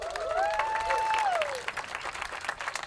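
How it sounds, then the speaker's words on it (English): An audience at a youth afterschool advocacy press event gives a steady round of applause lasting about three seconds, with a brief whistle-like tone rising over the clapping early on before the sound thins out. "Give yourselves a round of applause."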